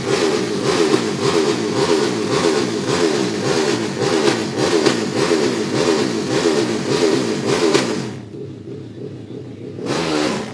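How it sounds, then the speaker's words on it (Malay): A 150cc four-stroke Pro Drag racing motorcycle engine at a drag strip revs hard and continuously with a rasping, pulsing note, then drops away briefly before revving again near the end. "Itu dia Durman Engine bagi kategori 150 cc Pro Drag."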